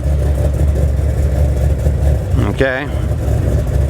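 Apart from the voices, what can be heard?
Pontiac G8 GT engine running after start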